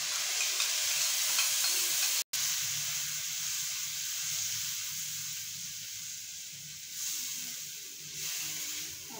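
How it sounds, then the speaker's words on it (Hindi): Yogurt mixed with spices frying in a pan over medium flame for an egg masala curry, a steady broadband sizzle with stirring, one abrupt brief cut near the start, no talking. "अब हम लोग इसके अंदर जो हमने दही में मसाले सारे डाल कर रखे थे वो इसके अंदर ऐड कर देंगे"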